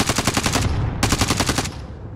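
Rapid automatic gunfire in an online shooter game, two long bursts of evenly spaced loud shots with a brief pause between, close and punchy with no talk over it.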